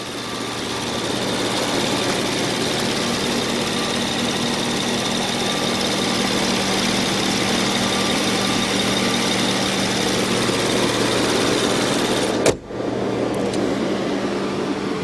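A parked Rolls-Royce with 563 horsepower and 570 pound-feet of torque runs on a hot day, its engine and cooling droning loudly and steadily close by before a brief dip near the end.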